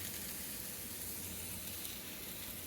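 Mushrooms with pepper flakes, garlic scapes and walking onion fry in a pan, a soft steady sizzle and hiss that runs unbroken and fairly quiet.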